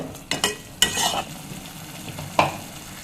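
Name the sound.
stirring masala paste in frying pan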